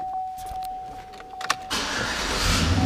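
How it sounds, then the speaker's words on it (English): Chevrolet Silverado pickup truck engine starting: a steady chime and a few clicks, then the starter cranks and the engine catches and settles into a rising, steady rumble close by. "Truck fires right up."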